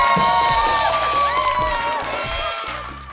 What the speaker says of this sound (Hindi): तालियां मेरे अच्छे तालियां बजाएं जी